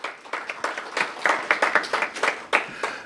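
Applause from an audience at a book talk, a scattered patter of claps of uneven density swelling and thinning over a few seconds, with no voices over it.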